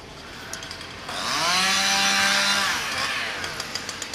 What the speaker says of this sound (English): You can see those two men out there sawing up trees.